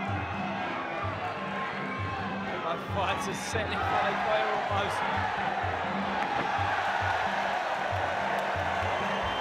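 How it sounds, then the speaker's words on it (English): At a Muay Thai fight, a packed crowd roars and cheers throughout, with whoops rising over a steady wash of noise, rhythmic background music, and a commentator speaking over it all. "The crowd go wild here"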